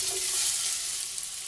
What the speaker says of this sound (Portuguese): Vamos colocar banha, ó, panela quente. Já podemos colocar aqui o bacon